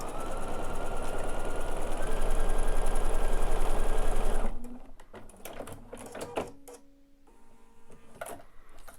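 A Bernina overlock sewing machine stitching piping, a loud rapid mechanical whir for about four and a half seconds, then stopping, followed by quiet handling clicks and rustles.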